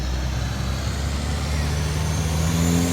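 Duramax diesel trucks roar loudly and continuously at a drag strip during a diesel racing event, with engine pitch rising as they accelerate, under an announcer's voice.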